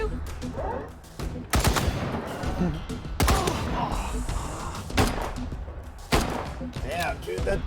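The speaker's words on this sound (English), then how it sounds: "Damn, dude, that turret is powerful." Powerful turret gunfire in the Wasteland 3 video game, heavy bursts of shots striking repeatedly in close succession over roughly eight seconds, loud and near, with a voice talking over the fire.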